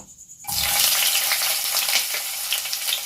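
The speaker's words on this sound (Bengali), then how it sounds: "পুরো পেঁয়াজটাকেই দিয়ে দিচ্ছি এবার এটা যতক্ষণ না ব্রাউন হচ্ছে" Chopped onions tipped into hot oil with cloves and a small cinnamon stick for a red chicken curry, a sudden loud sizzle that holds as a steady, close crackling hiss with no talking.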